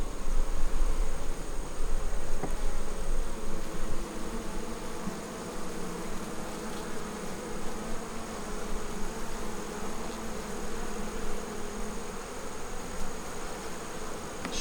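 Honeybees buzz steadily in a hive while a queen bee is introduced, a dense, close, continuous hum with no talk.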